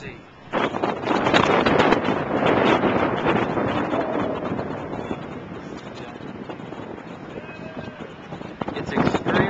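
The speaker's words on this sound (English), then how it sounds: "It's extremely windy up here" Strong wind atop Galata Tower in Istanbul buffets the microphone with a loud, continuous rumbling roar that swells and eases slightly throughout.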